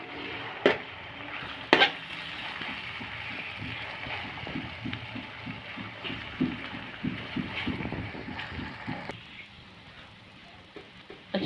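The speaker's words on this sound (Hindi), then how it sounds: "हमारा ये अदरक लहसुन का जो कुटा हुआ मैं डाला था वो मैंने इसके अंदर फ्राई कर लिया है" Crushed ginger and garlic fry in a pan for minced keema with peas, a soft sizzle broken by rhythmic scraping stirs and a couple of sharp clanks.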